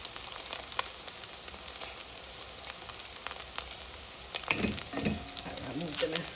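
Frankfurter sausages fry in a pan with a continuous close sizzle and scattered sharp pops, and a clatter of the pan or utensil near the end.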